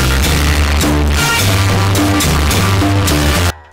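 Upbeat electronic sushi music from the Wii food delivery channel game plays loud and close, with a bouncy bass line and repeating short melodic phrases, ending abruptly after about three and a half seconds.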